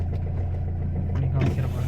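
A Ford Figo diesel car engine turning over and settling into a steady, close, low idle; a voice speaks briefly over the rumble.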